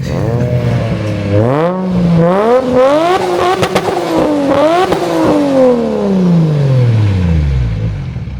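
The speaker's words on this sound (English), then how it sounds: "It's gonna rev the shit out of this car." A car engine revving hard, pitch climbing and wavering through repeated throttle blips, then winding down at the end, loud and close.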